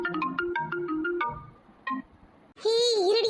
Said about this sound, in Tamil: இருடி அக்கா, ஃபோன் அடிக்குது